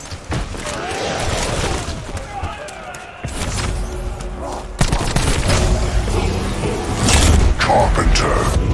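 Gunfire in a shooter video game, sharp cracks and bursts scattered through the clip, getting louder toward the end, mixed with mechanical clatter and game noise.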